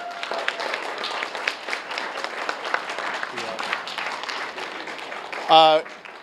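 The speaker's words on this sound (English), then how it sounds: "I'll make a collective round of applause for the staff and students." An audience applauds staff and students at a school fine arts gallery evening, with dense, sustained clapping throughout and a brief louder burst near the end.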